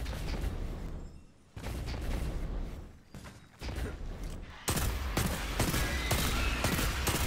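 Jack Queen King 3 legendary hand cannon firing in Destiny 2, a series of loud, sharp shots spaced about a second apart, with a gap of a second or two, then denser closer bursts toward the end amid game ambience.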